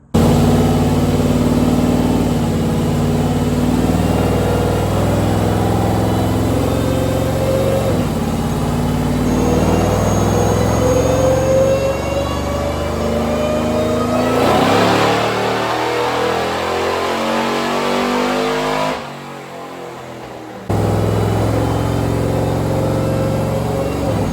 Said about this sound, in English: here's a couple of dyno pull clips